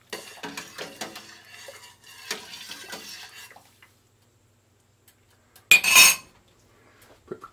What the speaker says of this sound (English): Now, I just want to get it in there and give it a good stir.